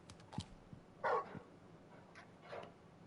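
Torgal, the large wolf-dog companion in the video game Final Fantasy XVI, gives a few short barks and yips at moderate distance, spaced irregularly over quiet game ambience.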